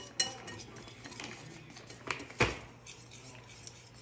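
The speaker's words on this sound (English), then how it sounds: "I'm just kind of whisking, mixing the dry mixture right now" A whisk scraping and clinking against a bowl while a dry mixture for low carb bread is mixed, quiet scattered taps with a couple of sharper knocks, no talking.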